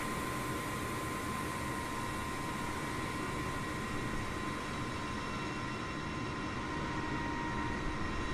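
The auxiliary power unit of an MD-11 airliner in Microsoft Flight Simulator runs as a steady, loud broadband whine and rush with faint sustained tones, unchanging throughout with no talk.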